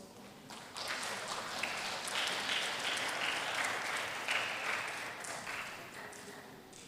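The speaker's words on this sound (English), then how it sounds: "Please give big a round of applause." An audience at a university public lecture seminar applauds a guest, a sustained round of clapping from a crowded hall that swells and then eases.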